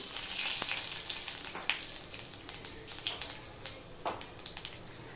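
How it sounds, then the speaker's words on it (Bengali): A bay leaf torn in two and half a spoon of panch phoron hit hot oil in a pan, crackling and sizzling loudly up close, with sharp pops and spits that thin out toward the end. "দিয়ে দিলাম একটা তেজপাতাকে দুভাগ করে দিয়ে দিলাম, দিয়ে দিলাম হাফ চামচের মতন পাঁচফোড়ন"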